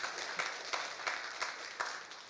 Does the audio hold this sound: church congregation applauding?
yes